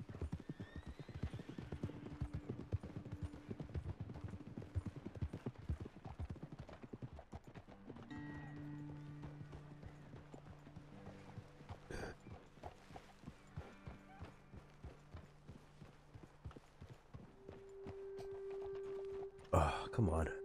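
Horse hooves clip-clop at a steady walking rhythm while riding in the Western game Red Dead Redemption 2, with a whinny and game music alongside and someone talking over them.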